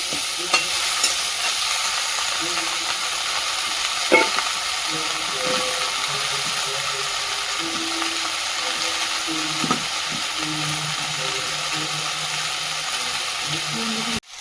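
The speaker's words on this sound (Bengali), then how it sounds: "দিয়ে ভালো করে কষাবো।" Ingredients sautéing in a pan while being stirred, a continuous loud sizzle with occasional clinks of the spoon against the pan throughout.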